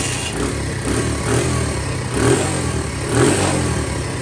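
A 2015 Lifan Pony motorcycle's small engine running nearby, a steady mid-pitched hum that swells slightly in gentle revs rather than roaring.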